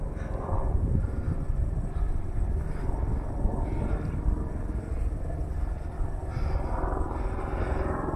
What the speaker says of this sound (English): There's a helicopter going along there.